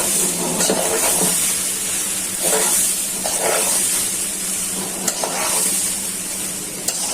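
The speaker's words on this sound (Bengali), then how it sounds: "মশলাটা দিয়ে চাউলটা ভালো করে ভাজতে হবে।" Rice frying with spices in a pan for bhuna khichuri, a steady close sizzle with periodic scraping stir strokes and a few sharp ticks.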